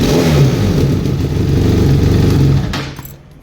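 Benelli TRK502 motorcycle fitted with an Akrapovic exhaust revs up loudly and holds a throaty, droning engine note up close, then cuts off sharply and settles back to a quiet idle.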